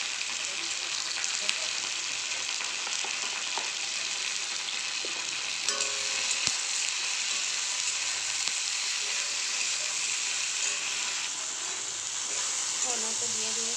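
Okra fries in oil with a steady, soft sizzle and hiss throughout, with occasional light clinks of stirring.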